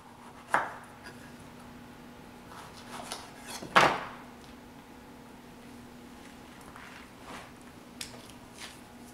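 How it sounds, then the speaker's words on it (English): A few sparse knife strikes on a cutting board while apples are roughly chopped, two sharper chops standing out among quieter taps and a faint steady hum in a quiet kitchen. "just rough chop your apples"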